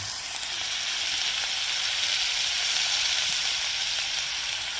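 Chopped tomato lightly frying in a pan gives a loud, continuous close-up sizzle and hiss that holds steady throughout, with no voices.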